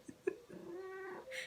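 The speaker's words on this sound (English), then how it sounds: "an attention-seeking cat that wants to be part of my vlog" A cat meows insistently indoors, a short chirp followed by a long drawn-out wailing meow and a higher cry at the end, close and clear.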